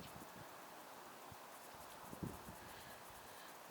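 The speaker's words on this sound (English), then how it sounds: "I got a little bit of wind going" Wind blowing outdoors against a small action camera, a faint and steady hiss with light buffeting that runs throughout, and no voices.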